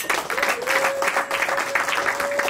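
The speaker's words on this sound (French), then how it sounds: "On applaudit pour lui." Guests at a customary wedding applauding the groom's companion, a sustained round of clapping with a faint steady tone running beneath it.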